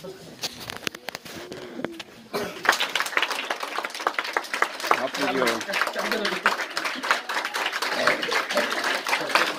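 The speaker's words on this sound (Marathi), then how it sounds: "टाळ्या वाजवा सर्वांनी. टाळ्यांचा गजर होऊ द्या, कडकडाट होऊ द्या." A school crowd claps for a teacher's birthday, a dense burst of applause that starts after a few quieter seconds and grows into a loud, sustained roar of many hands.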